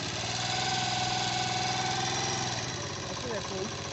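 Motorcycle engine runs steadily in traffic near a central market, a close, continuous mid-pitched drone with vibration and a speaking voice over it.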